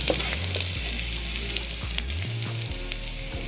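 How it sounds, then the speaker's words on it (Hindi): Onions sizzle and fry in a pan until golden, a steady crackling hiss close by with occasional stirring, under a low background hum and no talking. "गोल्डन कलर होने तक हम इसे अच्छी तरीके से भून लेंगे"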